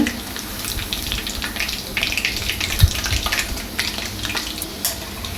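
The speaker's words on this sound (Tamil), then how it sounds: "இப்போ பாருங்கள், நல்லா வெந்து வருது பாருங்கள். நல்லா கிரிப்ஸியாக இருக்குது." Mushrooms deep-frying in oil at a roadside stall, a busy crackling bubbling sizzle with a few sharper pops and stirring clinks, fairly close and steady, no speech.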